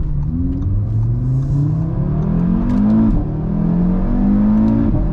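A 2018 Audi RS3 in dynamic mode with exhaust valves open, its engine loudly revving and accelerating through rising pitch sweeps and gear shifts, heard from inside the car.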